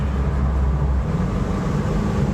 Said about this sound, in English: Hear that turbo going.